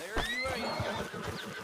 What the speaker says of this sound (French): Le cheval de merde.